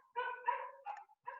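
A dog gives three quick, fairly faint barks in a short burst, each a sharp tonal yelp with brief pauses between.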